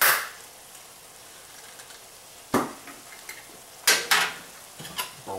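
Onions dropped into a hot pan for Frito pie: a few sharp bursts as they land and get stirred, then a faint, steady frying sizzle in between.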